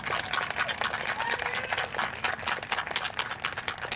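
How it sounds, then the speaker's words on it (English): An audience at a live justice event applauds a speaker with irregular, fairly sparse clapping, heard somewhat distant and at moderate level. "So I want to give an applause to Myra"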